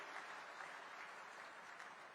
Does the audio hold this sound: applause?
yes